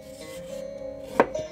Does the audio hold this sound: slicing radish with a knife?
yes